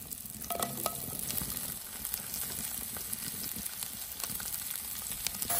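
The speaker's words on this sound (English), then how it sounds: "Got our mushrooms cooking down." Mushrooms fry in a pan over an open fire, a continuous close sizzle and crackle with occasional stirring scrapes and no talking.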